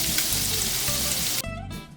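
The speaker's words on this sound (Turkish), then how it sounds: "Köftelerimiz pişiyor." Turkish köfte meatballs fry in a pan with a steady, loud sizzle that holds for most of the moment, then briefly quiets and resumes with crackling near the end.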